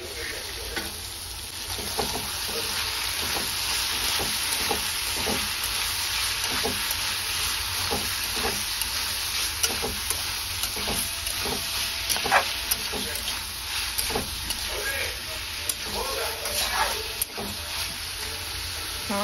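Tomatoes and peppers frying in a pan at an outdoor lakeside cooking spot, a loud steady sizzle with scattered spitting pops and occasional stirring scrapes, close and continuous.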